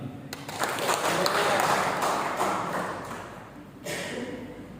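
Church congregation applauding together, a dense, loud wash of clapping that swells and fades over several seconds, with a second burst near the end.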